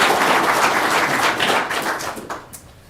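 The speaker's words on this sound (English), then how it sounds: "I'd just like to give him a round of applause." At a county commission work session, a roomful of people gives a round of applause: a dense patter of clapping that starts at full strength and fades out over about three seconds.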